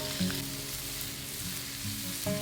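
Chopped onions, garlic and ginger fry in a pan for a spicy watermelon curry, giving a steady close sizzle with a few soft stirring scrapes and no talk.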